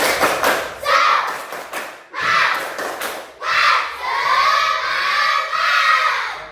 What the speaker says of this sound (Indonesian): untuk tambah semangatnya kita tepuk semangat